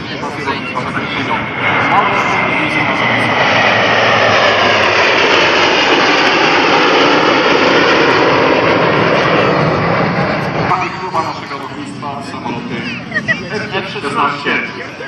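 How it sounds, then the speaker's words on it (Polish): A MiG-29 jet fighter from Poland's 22nd and 23rd tactical air bases roars past at the Radom 2017 air show, a loud sustained broadband engine rush that swells and fades as the crowd murmurs. "mój kochany samolot MiG-29 z 22."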